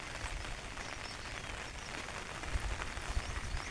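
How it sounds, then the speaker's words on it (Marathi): Light rain patters steadily in the open air, a soft continuous hiss with occasional slightly louder drops, no voices. "थोडासा पाऊस आलेला आहे मित्रांनो"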